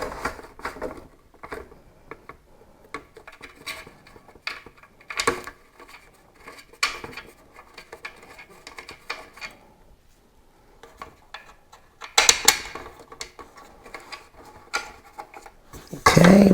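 Ceiling fan blade fitted by hand, loose metal parts and screws handled: faint scattered clicks, taps and light rattles with quieter gaps, a louder clatter near the end, no voices.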